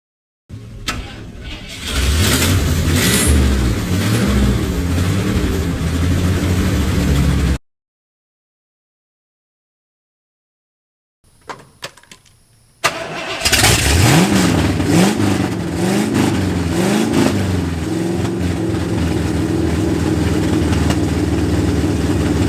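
A lifted Ford Bullnose truck with Flowtech long tube headers and no cats revs loud and raw nearby, its open exhaust roaring through repeated throttle blips, cut by a silent gap before another sustained run of revving.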